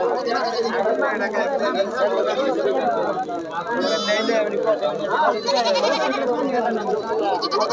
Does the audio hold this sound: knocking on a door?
no